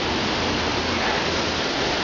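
Water from a man-made fishery on Brandywine Creek in Wilmington, Delaware rushes out under a street into the river, a loud, steady broadband roar with no breaks and no voices.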